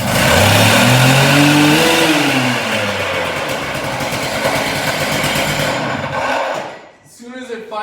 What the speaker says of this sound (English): We pull it. It fired over once, so I'm going to turn the choke off, repress the decompression valve,